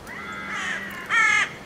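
A crow cawing overhead, two or three harsh, drawn-out calls close and clear over a quiet outdoor background, the last one loudest.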